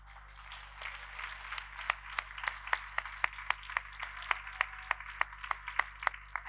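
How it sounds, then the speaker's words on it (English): Rhythmic clapping at a university degree ceremony in Milton Keynes, a steady series of sharp claps about three per second, moderately close over a low constant hum, sounding thin rather than like a large crowd. "give your families and friends a round of applause"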